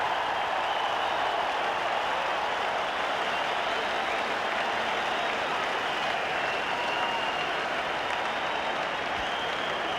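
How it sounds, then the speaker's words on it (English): Dense, steady roar of a cricket crowd cheering and clapping after a big six-hitting slog at a 1986 one-day international in Brisbane, filling the whole stretch without a break. "That was a magnificent hit. Brought the crowd to its feet here."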